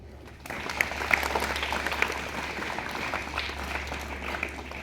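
Classroom audience clapping for a teacher after an earthquake safety talk, a crowd of hands starting abruptly and continuing steadily at moderate loudness, with a few sharper near claps over a low steady electrical hum.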